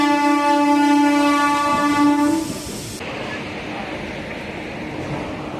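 A Tirupati–Chennai Central MEMU express departs the station with a loud, sustained multi-tone horn blast lasting about two seconds, followed by the steady rumble of the moving train.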